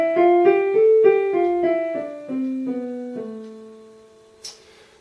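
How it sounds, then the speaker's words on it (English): A slow descending minor scale played on a melodic instrument, steady single notes stepping down one at a time, ending with a brief click. "then you have minor, which is a very sad sounding scale and sounds like this."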